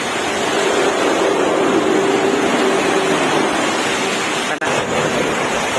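A pipe gushes water during heavy rain, producing a loud, unbroken roar of pouring water that stays steady except for one short dip near the end, with no voices.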